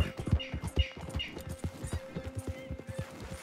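Horse hooves clop in a quick uneven rhythm in the Red Dead Redemption video game as the horse drifts and slides, close and moderately loud, with a steady tone and a voice over it.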